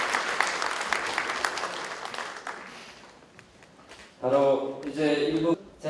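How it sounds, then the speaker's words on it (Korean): Applause at an opening ceremony for a regional mental health center: a crowd claps loudly, then the clapping fades, and a speaker's voice comes in over the last of it. "다시 한번 박수 부탁드리겠습니다."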